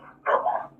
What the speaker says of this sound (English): if you hear lots of barking, I have 4 dogs